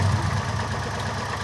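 A small engine idles steadily while its distributor rotor timing is adjusted, a close, even low rumble with no talk over it.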